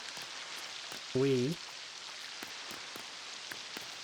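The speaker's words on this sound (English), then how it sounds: "it's a rainy day" Steady rain in the video game Lego Fortnite, a soft continuous patter with scattered drops throughout and a brief voice cutting in near the start.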